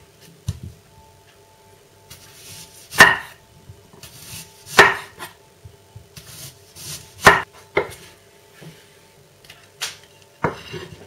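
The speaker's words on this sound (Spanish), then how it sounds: "La cebolla primero la vamos a pelar y luego la cortaremos en rodajas." A knife slices a peeled onion into rings on a cutting board while a pizza is being made, giving a series of sharp, close chops spaced a second or two apart, with no talking.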